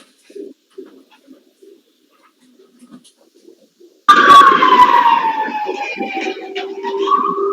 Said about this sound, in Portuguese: Tem alguém com o microfone ligado aí que tá aparecendo a sirene.